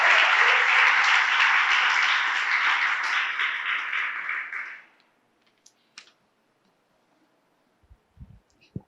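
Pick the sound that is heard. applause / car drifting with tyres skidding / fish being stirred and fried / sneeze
applause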